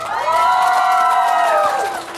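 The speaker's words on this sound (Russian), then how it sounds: "Ваши аплодисменты, Ислам!" Audience at a children's karaoke show cheering and shouting loudly, with applause beneath, sustained for about two seconds before tapering off.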